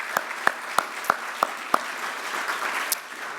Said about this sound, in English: So one more round of applause for